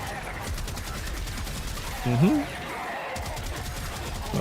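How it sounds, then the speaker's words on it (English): Rapid, steady gunfire in the video game Warframe runs through the whole stretch as a constant mechanical rattle. A voice speaks briefly over it near the middle. "let's start shooting."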